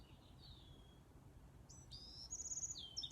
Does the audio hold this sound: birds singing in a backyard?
yes